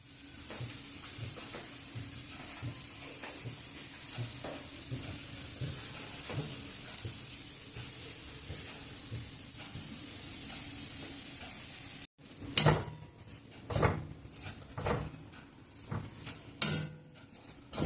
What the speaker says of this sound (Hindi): बस ध्यान है कि बीच में इसको चलाते रहें ताकि कढ़ाई में लगे नहीं।